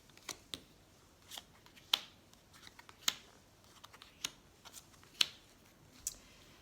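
Tarot cards are shuffled and handled for a reading, giving a quiet series of crisp, separate snaps and riffles spaced about a second apart, close by in a hushed room.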